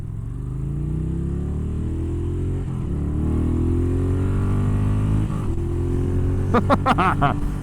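A Moto Guzzi Griso 1100 motorcycle rides on the road, its engine droning steadily with rising revs through the gears, loud and close, ending in a few sharp bursts of louder revving.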